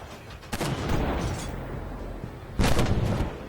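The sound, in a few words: LAV 300 cannon firing in video game Armored Warfare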